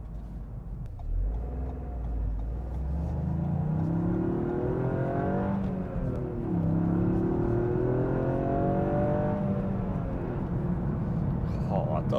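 A 2021 Toyota GR Yaris engine pulls hard under acceleration, rising steadily in pitch through a gear, then easing and climbing again, loud and close from inside the cabin with no talk over it.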